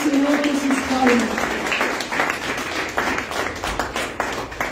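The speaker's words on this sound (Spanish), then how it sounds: "Alábele al Señor con sus palmas, alábele al Señor con sus palmas." A church congregation claps hands in praise, a dense patter of many palms filling the room, while a voice speaks over it and a sustained voiced tone fades in the first second.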